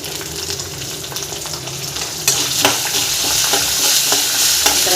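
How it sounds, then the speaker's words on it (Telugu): Peanuts, chana dal, urad dal, mustard seeds and dried red chilies fry in hot oil with a loud, close sizzle. Partway through, the sizzle swells and crackles are scattered over it as the spices pop and get stirred. "పల్లీలు ఇలా వేగిన తర్వాత శనగపప్పు, మినపప్పు, ఆవాలు, ఎండుమిర్చి వేసుకోవాలండి."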